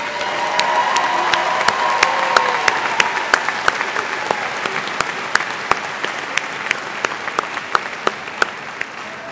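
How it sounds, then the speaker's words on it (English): A commencement audience gives graduating students a final round of applause, a dense, sustained clapping with sharp individual claps standing out, steady throughout and tapering slightly toward the end. "Let's have a final round of applause for the students in CLIS"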